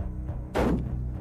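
A single loud rifle gunshot rings out while hunting, a sharp boom with a short decaying tail over a steady low background.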